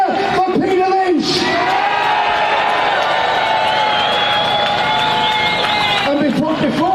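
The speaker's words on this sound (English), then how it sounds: "Let's have a massive cheer for Peter Lynch." A large outdoor rally crowd in London cheers and whoops continuously, loud and sustained, with shouted voices rising over the roar.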